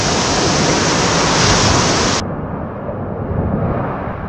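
Strong sea waves at a blue lagoon, a loud, roaring wash of surf that fills the scene, its bright hiss cutting off abruptly midway and leaving a lower, duller rumble.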